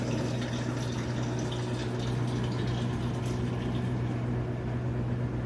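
Water pours steadily into a Whirlpool top-load washing machine being recalibrated, a continuous rushing fill with a faint pump-like hum, close and alone without talk.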